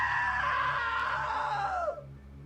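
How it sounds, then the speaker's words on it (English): A long, loud scream in the video game What Remains of Edith Finch, held steady for about two seconds before trailing off and breaking, over a low background hum. "Now that was a great scream."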